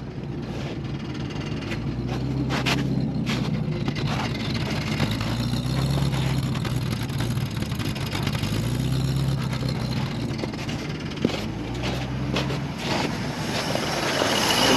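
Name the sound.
1953 Packard Cavalier engine running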